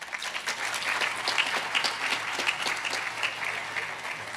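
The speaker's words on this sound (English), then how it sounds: "May we have another round of applause?" A university audience applauds at a strategic plan event, a dense, even crackle of many hands clapping throughout, steady and fairly close, with no pause.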